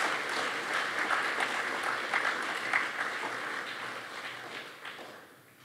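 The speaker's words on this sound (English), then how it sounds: "please give them a little round of applause and thanksgiving for that" A crowd at a school Mass claps steadily for several seconds, a dense even patter of many hands that slowly thins and fades toward the end.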